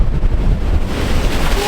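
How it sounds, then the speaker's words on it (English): Surf crashes against rocky shoreline breakwater while anglers rock-and-surf fish, a loud continuous churning roar with heavy wind buffeting the microphone. "the waves are smashing us"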